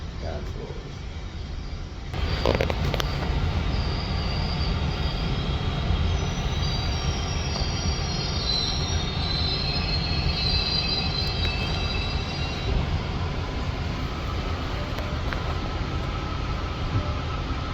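A GO train pulling into Danforth station at night, rolling with a loud steady rumble while its wheels squeal in long high-pitched whines for several seconds. A voice speaks over the train noise.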